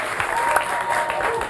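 Brief, dense audience applause at a talk show, a continuous patter of clapping hands at moderate loudness throughout.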